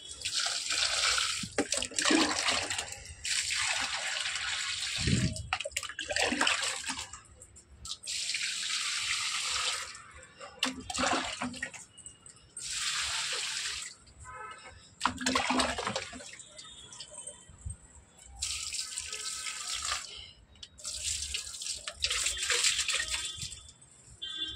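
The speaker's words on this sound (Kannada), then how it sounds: "ನೋಡಿ, ಪಾಟ್ಗಳಿಗೆ ನೀರು ಹಾಕ್ತಾ ಇದ್ದೀನಿ." Water pours and splashes into plant pots at home in bursts of rushing, gurgling flow, separated by short pauses, close and fairly loud.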